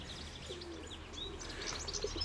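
Pigeons return and settle in, with soft cooing and scattered chirps over steady outdoor background noise, fairly faint and continuous.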